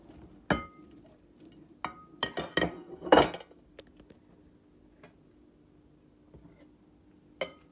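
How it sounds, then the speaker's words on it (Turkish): Fried liver and potatoes are stirred in a pan for Albanian-style liver, giving scattered sharp metallic clinks and scrapes, clustered in the middle and separated by quiet pauses. "Kızarttığımız patatesleri de ilave ediyoruz."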